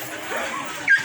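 Dogs of mixed breeds, including bully, Belgian and Pomeranian, at a gathering venue: a faint whimpering murmur ends in one short, sharp high yip.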